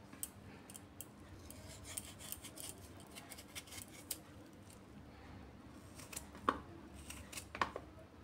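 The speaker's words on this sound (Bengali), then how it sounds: "এইভাবে লম্বা লম্বা করে কাটছি।" A knife slices potatoes into long thin pieces on a board, faint scraping strokes and a few sharper taps spaced irregularly, quiet and close against low background noise, with no speech.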